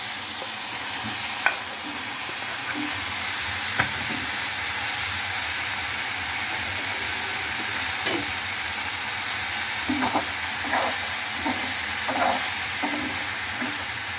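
Ingredients sautéing in a pan for kuska biryani, a steady frying sizzle with scattered stirring clicks and scrapes throughout, fairly close and alone with no talk.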